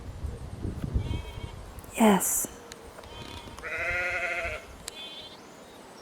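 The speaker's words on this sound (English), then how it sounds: "If the lamb can't find the flock, maybe I can get the flock to find the lamb." Sheep and a lost lamb bleat outdoors at sunrise in July, with one sharp wavering bleat followed by a longer, lower one, while someone speaks nearby.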